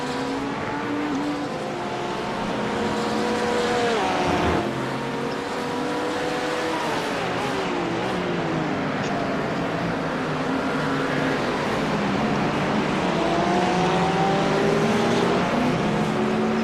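GT3 race cars roaring past at Daytona in a racing video game, a continuous loud engine drone with rising and falling pitch sweeps as cars pass and shift, sustained throughout.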